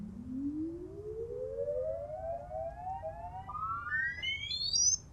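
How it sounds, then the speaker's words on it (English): A bare synth line with no effects glides steadily upward in pitch over about five seconds, then jumps up in glitchy stepped leaps near the end, loud and alone, sounding like a siren sweep. "it's like the synth that's like glitching around"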